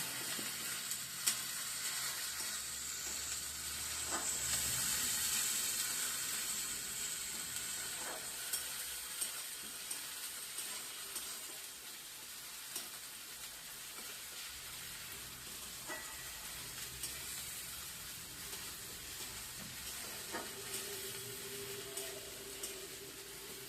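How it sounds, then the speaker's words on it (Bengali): Onion, ginger and garlic frying in hot oil for a carp curry give a faint, steady sizzle that runs unbroken for the whole stretch, with a few small clicks and stirring knocks and no voices. "পেঁয়াজ আদা রসুনটা ভালো করে ভেজে নেব"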